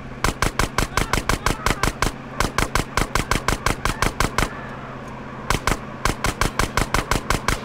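Rapid, evenly spaced bursts of machine gun fire in Grand Theft Auto San Andreas ring out loud and close, with a brief pause before the rhythmic shots resume.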